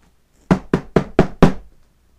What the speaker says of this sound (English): He's knocking.